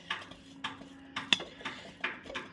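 A spoon scrapes and clinks against a pan while peas are stirred, giving a series of sharp metallic taps and scrapes at an uneven rhythm, close and fairly quiet, with no talking.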